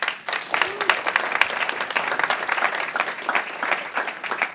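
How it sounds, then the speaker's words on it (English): An audience at the ITERATIONS 2025 event applauds a speaker being welcomed on stage: dense, steady clapping from a crowd that fills the whole stretch without a break, fairly loud and evenly sustained. "Can I get a loud applause for Edwin Jakobs?"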